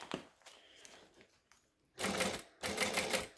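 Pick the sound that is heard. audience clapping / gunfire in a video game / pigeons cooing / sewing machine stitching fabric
sewing machine stitching fabric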